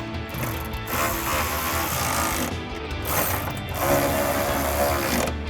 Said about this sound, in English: Tighten these two 10s down.